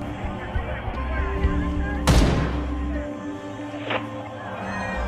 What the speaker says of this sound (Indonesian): tiba-tiba Yuki menembak sebuah peluru dari senjatanya